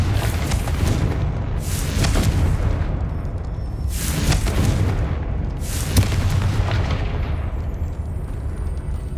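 Confringo spell explosions in the Hogwarts Legacy video game: three loud, booming blasts about two seconds apart, each with a rumbling tail, set against a continuous dense background of game sound, with no talking.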